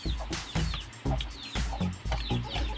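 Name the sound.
chickens clucking at feeding time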